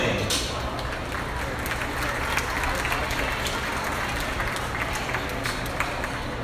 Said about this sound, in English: Continue that round of applause for all these champion exhibitors.